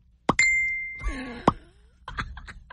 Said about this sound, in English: And then his phone goes like this.